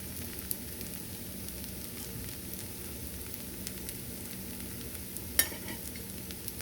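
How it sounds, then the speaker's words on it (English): A steady, crackling sizzle of a rava dosa on a hot cast iron griddle runs throughout, with one brief sharp clatter near the end. "Gonna let that sizzle just a little more."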